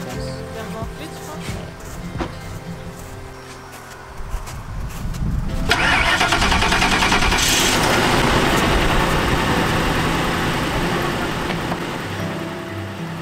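A camper van's engine starts and settles into a steady, loud idle that fills the second half, with people talking over the low rumble beforehand.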